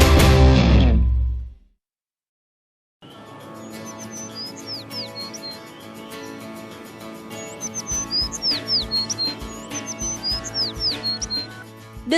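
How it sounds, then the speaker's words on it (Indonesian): Birds chirp and sing in short repeated tweets across a coffee plantation in the morning, starting after a brief loud burst and a few seconds of silence, over a steady background hum, growing livelier toward the end. "Desiran angin dingin dan riangnya nyanyian burung mengawali hari saya pagi ini."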